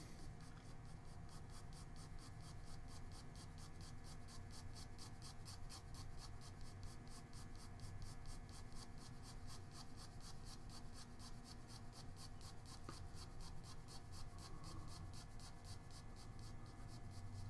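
A pencil shades fabric folds in a portrait drawing on paper, a quiet, steady, continuous scratching of rapid back-and-forth strokes with no voices.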